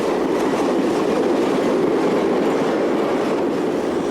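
A CP 2551 class electric locomotive hauls a southbound freight of cement hoppers near Villafranca, Portugal, giving a steady, loud, continuous rolling rumble with faint wheel clatter throughout and no voices.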